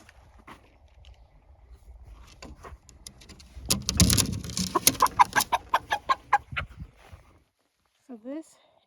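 Chickens cluck at a coop during summertime evening chores, a run of rhythmic, fairly close clucks building up in the middle, with low background activity and a brief squawk near the end.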